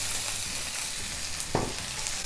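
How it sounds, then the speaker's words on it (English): Onions frying in oil in a preheated skillet, a steady loud sizzle with a brief clatter as they are stirred or tossed partway through. "we're gonna add some oil to our preheated skillet. And we are going to add our onions."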